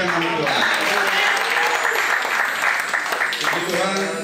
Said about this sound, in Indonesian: kita dikasih tangan ini untuk tepuk tangan untuk memuliakan nama Tuhan